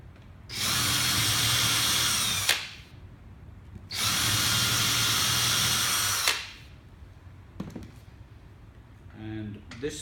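Power drill driving screws into wood while building a wooden tree seat: two sustained, loud whirring bursts of about two seconds each, followed by a few faint taps and brief handling noise.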